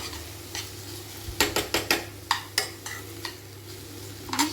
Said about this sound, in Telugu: నువ్వులు వేసి వేయించుకొని తర్వాత కరివేపాకు వేస్తే సరిపోతుంది